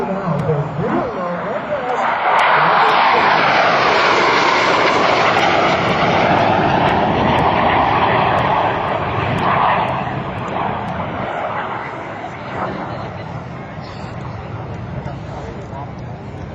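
A pair of F-86 Sabre jets makes a low pass at a 2006 air force base airshow, the engine roar swelling loud and then slowly fading into the distance while an announcer talks over it.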